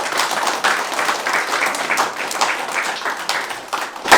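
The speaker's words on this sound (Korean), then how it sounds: "여러분 동의하신다면 큰 박수." Supporters clap loudly at the 2022 campaign office opening of a People Power Party preliminary candidate for South Chungcheong governor. The close, dense applause pulses with faintly rhythmic surges and swells again at the end.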